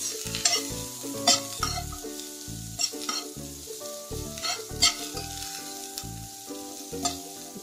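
Green peas and mixed vegetables fry in a pan while a spoon scrapes and stirs them in repeated clanking strokes over a soft sizzle, close and clear.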